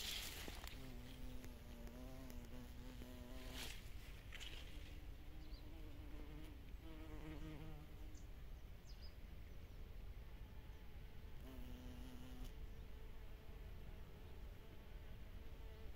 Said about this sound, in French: Revoici notre charmant abeille noire.